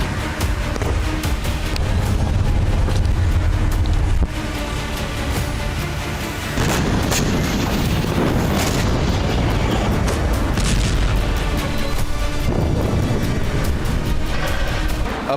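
Explosions near the Golan Heights in news footage, heard as a loud, dense, continuous rumble of deep booms lasting throughout, with a brief dip in intensity partway before the roar resumes.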